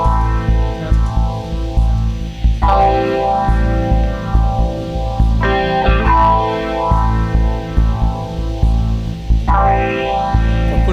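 An electric guitar loop runs through a tap-tempo delay effect, its sustained chords repeating and smearing into echoing, modulated swells that restart every few seconds, loud and alone with no talking.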